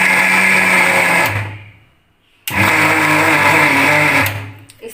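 A mixer grinder blends peanuts into peanut butter, running in two loud whirring bursts separated by a brief pause as the motor stops and restarts.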